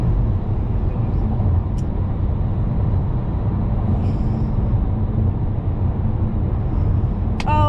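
Car rolling along the road well under the speed limit, a steady low rumble of engine and tyre noise heard from inside the cabin, with a few faint brief chirps.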